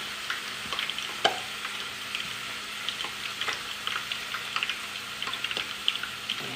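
Apple fritter dough frying in a pot of hot oil, a steady close bubbling sizzle with scattered pops and crackles throughout, plus a few light knocks.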